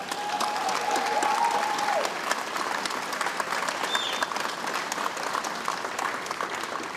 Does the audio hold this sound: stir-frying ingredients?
no